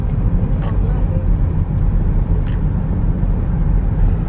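A car travels slowly along a town road past roadside shops. Its engine and road noise form a loud, steady rumble with people talking over it.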